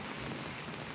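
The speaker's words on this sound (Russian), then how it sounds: "Такие тропические дожди тут в Испании." Warm, heavy tropical rain falls steadily in Spain, a dense continuous hiss of drops striking surfaces that stays even and close throughout, with no voices.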